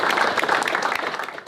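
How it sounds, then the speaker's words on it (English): Brief burst of audience clapping at a collegiate sports combine welcome session, a quick patter of hands from a modest group, fairly close and steady for just over a second. "So I just want to give a clap to everyone for making it."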